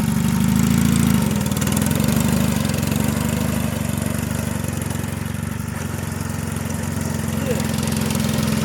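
A mini tractor engine runs loud and close in first gear for the whole stretch, a steady mechanical drone with a brief surge near the start.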